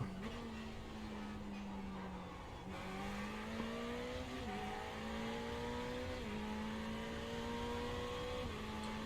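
Race car engine in the iRacing sim, droning steadily at high revs down the main straight with brief dips at each upshift, loud and continuous with no talk.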